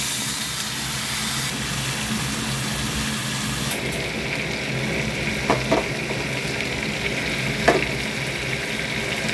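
Chicken with turmeric, ground spices, salt and green chillies sizzling steadily in a pan, a close, continuous fry with a few brief stirring scrapes and no talking.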